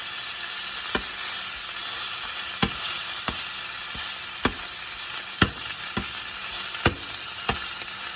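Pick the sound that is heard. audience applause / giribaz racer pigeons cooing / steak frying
steak frying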